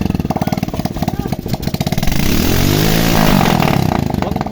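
Diesel intercooler turbo engine running with a fast, steady mechanical chug that swells into a louder rev midway, close to the microphone, mixed with background voices.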